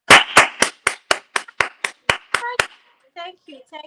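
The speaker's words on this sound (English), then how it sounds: "Give me a clap." A small crowd claps in a lively burst of about a dozen sharp, evenly spaced claps, followed by a brief pause and a few voices.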